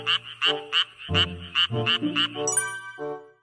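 A frog croaks in a quick series of bright, ringing calls, close by and loud, with a rhythmic repeated pattern.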